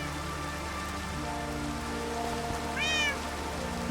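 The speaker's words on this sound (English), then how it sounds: "Oh, there's a kitty here." Cat meowing in a zombie apocalypse video game, one clear rising meow near the end over steady rain pattering on a surface and low background tones.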